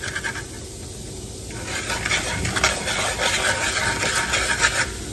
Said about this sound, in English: we're going to add in some flour and start to getting it cooked